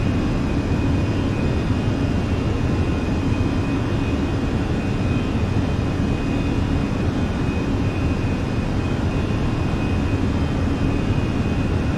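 Steady, loud, unbroken engine roar inside a simulated Fenix A320 airliner climbing after departure in Microsoft Flight Simulator, with a constant broadband rumble and a faint high tone, no voices.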